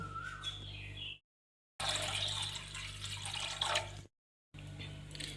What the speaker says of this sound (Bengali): এবার একটা কড়াই বসিয়ে দিয়েছি, কড়াইতে জল দিয়ে দেব।